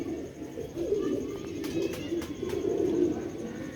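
Pigeons coo softly and repeatedly at close range, low throaty calls rolling over a steady background, with a few brief sharp clicks but no talking.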